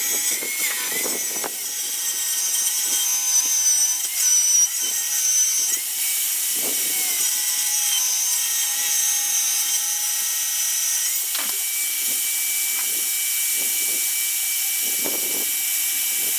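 A small power saw cuts through plywood, a steady high-pitched whine running almost continuously for the whole stretch, close and fairly loud, with a few brief dips and surges as the blade works through the sheet.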